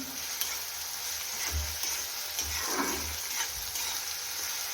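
Chopped onion frying in hot oil with salt, a soft continuous sizzle with occasional stirring scrapes and low bumps, fairly quiet and steady, no talking.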